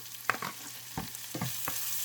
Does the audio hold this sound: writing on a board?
no